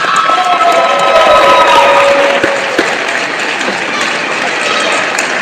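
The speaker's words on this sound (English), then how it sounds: "Please give a round of applause for Marcus Shaw." A basketball gym crowd applauding and cheering for a senior player, Marcus Shaw, at a men's college game, a dense sustained roar of clapping and shouts from a large room with faint voices mixed in.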